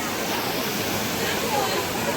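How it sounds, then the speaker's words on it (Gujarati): Waterfall at Hathni Mata near Pavagadh, where crowds bathe under the falling water: a steady, loud broadband roar of cascading water fills the whole stretch, with faint crowd chatter blended beneath it. "અહીંયા બી પાણી પડે છે"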